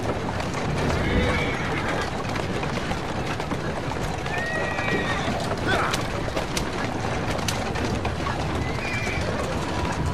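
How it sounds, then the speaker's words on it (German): A horse-drawn carriage drives through the streets in Assassin's Creed Syndicate, with steady hoof clip-clop, loud horse whinnies and rolling wheel noise, while someone talks over it. "Kutsche fahren müssen wir üben"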